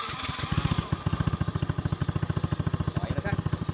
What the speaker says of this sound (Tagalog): Ang maingay lang yung tambutso. Pero yung makina, wala na yung tunog helicopter.